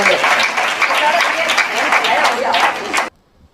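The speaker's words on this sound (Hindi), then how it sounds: "जोरदार तालियां।" An audience at a poetry gathering bursts into dense, loud applause that holds steady for about three seconds before cutting off abruptly.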